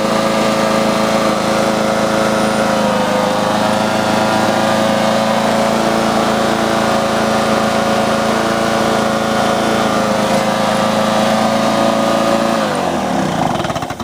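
A Lawn-Boy model 8243 lawn mower engine running steadily at high speed, loud and close with a sustained droning whine and strong harmonics, then dropping in pitch as it begins to slow near the end; no talking.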